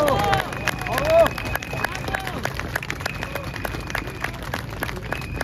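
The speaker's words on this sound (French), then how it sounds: "un tonnerre d'applaudissements pour Maître David Guyon" A rally crowd applauding a speaker at an outdoor demonstration, steady clapping and cheering with a few voices calling out and a whistle-like tone over the din.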